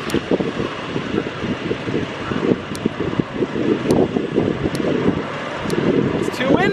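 Gusty wind blows outdoors and buffets the microphone, a steady broadband rush that swells and eases throughout with occasional sharper gusts.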